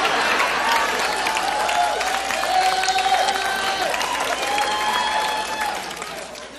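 A studio audience at a radio show applauds and cheers steadily, a dense wash of clapping and whoops with whistles that holds for several seconds before starting to fade.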